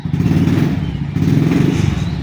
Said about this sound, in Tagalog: Pinaandar niya yung mga motor.